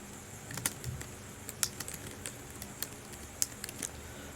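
Light, scattered clicks of fingers typing on a computer keyboard, a handful of quick keystrokes with short pauses between them, close and fairly quiet against a soft room hiss.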